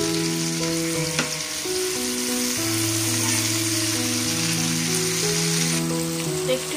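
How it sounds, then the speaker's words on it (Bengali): Slit green chillies sizzle and fry in hot oil in a pan for a rui fish curry, a steady close crackling hiss with a soft clink near the start and faint background tones throughout. "এখানে যে চেরা কাঁচা লঙ্কাগুলো আছে ওগুলো দিয়ে দিলাম।"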